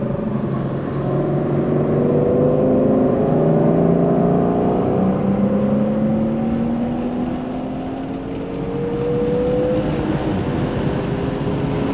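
Audi S5 B9 engine pulling hard around the Barber race track, a loud, steady drone with rising and falling harmonic sweeps as the revs climb through the gears, continuous throughout with no talking.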